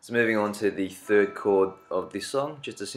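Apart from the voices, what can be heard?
No everyday noise stands out behind the speech.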